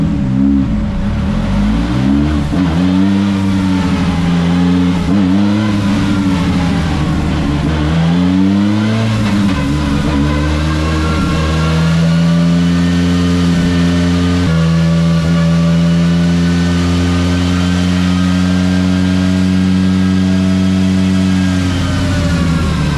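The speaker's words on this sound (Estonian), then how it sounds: "Auto dynosse, mõned tõmbed ja välja." A rallycross car engine revs hard and repeatedly on a dyno, loud and close, pitch climbing and dropping in long sustained pulls.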